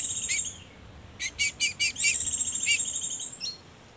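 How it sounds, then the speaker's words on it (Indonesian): A male rembetuk rawa bird calls close by: a couple of high notes, then a quick series of sharp chirps running into a trilling call. "Ini burung rembetuk rawa."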